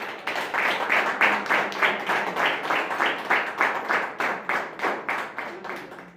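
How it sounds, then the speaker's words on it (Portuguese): A church congregation claps together in a steady, even rhythm, roughly three claps per second, moderately loud and close, without other sounds. "Aplauda."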